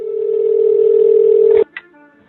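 Steady telephone tone heard through the line when dialing Murray Bauman's number from Stranger Things, a loud continuous hum lasting about a second and a half before cutting off with a brief click.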